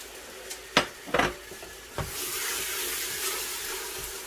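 Ginger, garlic and red and green chili paste being stirred in a frying pan for Punjabi kadhi pakora, a few sharp scrapes and knocks of the utensil early on, then a soft steady sizzle.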